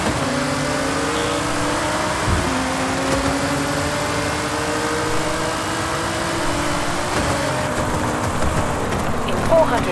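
A car engine racing in Forza Horizon 5, holding a steady loud drone with rising and shifting pitch as it accelerates through gears, with talking over it.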